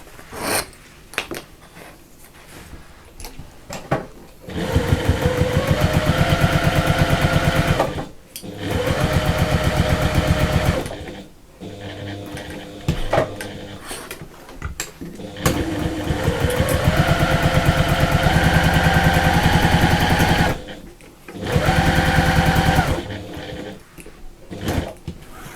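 A sewing machine stay-stitches a bag pocket in a series of fast, loud whirring bursts, each several seconds long, separated by short pauses.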